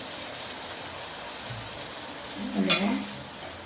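Chopped onions with a spoonful of butter and a spoonful of salt sizzle in a pan, a steady soft crackling frying hiss throughout, with a brief louder stirring clatter near the end.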